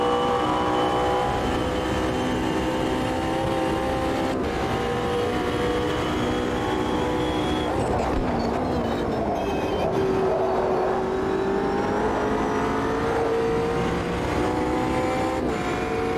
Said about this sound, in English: I like the interior sound a lot more in this. You can hear the gearbox whine and the elasticity in the drivetrain a lot more